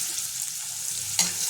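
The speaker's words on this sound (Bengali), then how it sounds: "পেঁয়াজটা হালকা ভাজা নেবো" Onions frying lightly in a pan alongside chopped ginger, garlic and green chilli, a steady soft sizzle with a brief louder stir or clink near the end, no talking.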